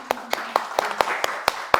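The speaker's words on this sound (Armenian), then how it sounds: "Ծափահարենք իրենց համար։" Rhythmic hand clapping in response to an invitation to applaud honored figures at an Armenian cultural event, seven sharp, evenly spaced claps over a low background murmur.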